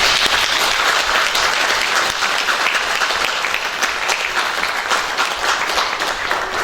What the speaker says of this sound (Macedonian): еден аплауз за Златица